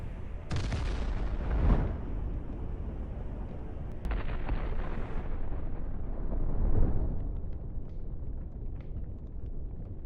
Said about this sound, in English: the second hit the survivors' ammunition, raising a fireball of explosion